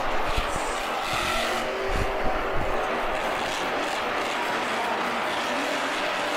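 A monster truck engine roars and revs hard during a wheelie at an indoor stadium show at NRG Stadium in Houston, loud and sustained with a rumbling low end and a constant crowd din behind it.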